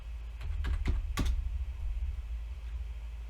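Keys tapped on a computer keyboard while entering a root login password on a Linux system, a short burst of several clicks followed by quieter taps over a low steady hum.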